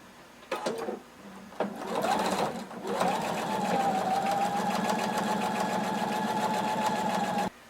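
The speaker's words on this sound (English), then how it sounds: "And we're going to sew close to the edge." A sewing machine stitching bias tape close to the edge of fabric, with a couple of short starts followed by a steady, fast, even whirring hum of continuous stitching, close up.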